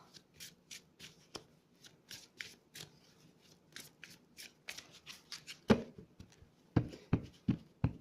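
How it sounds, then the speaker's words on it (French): Tarot cards are shuffled by hand in repeated quick riffles and flicks, crisp papery bursts in an irregular rhythm, close and fairly quiet with no talk. "j'ai donc battu les cartes"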